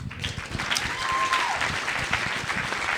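An audience at a talk-show podcast taping bursts into applause, dense close clapping from many hands that holds steady throughout with a faint whistle rising briefly in the middle.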